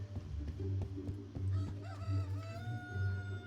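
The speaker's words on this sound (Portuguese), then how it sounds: "o galo está cantando" A rooster crows in the video game Fable Anniversary, one drawn-out cock-a-doodle-doo rising and holding over a steady low in-game ambience, fairly close and clear.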